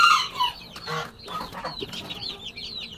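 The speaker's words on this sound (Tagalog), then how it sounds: "Tignan natin, Kajal Lemon yung mga manok natin dito sa kulungan." Chickens cluck and squawk close by, several birds overlapping in short bursts, with a busy, crowded feel and no talking.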